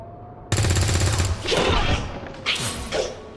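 Overwatch reaction fire in XCOM 2 Long War 2, a loud mechanical rattle of rapid automatic gunfire that bursts in suddenly and runs steady, then gives way to a couple of shorter, heavier gun reports.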